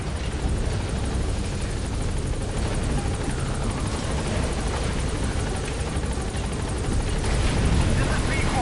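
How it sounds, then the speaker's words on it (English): A helicopter touches down in the video game Metal Gear Solid 5, its rotor throbbing in a loud, dense, continuous wash of noise that fills the clip from start to finish. "the chopper's touching down"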